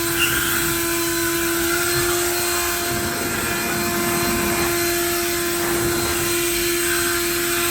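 Leaf blower running continuously beside a 1966 Chevy C10 pickup, a steady loud drone with a sustained whine, holding evenly throughout with no talk over it.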